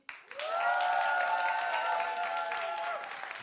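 Audience applause at an annual startup pitch contest, a dense sustained burst of clapping that rises quickly and holds steady for a few seconds before easing slightly, close and fairly loud.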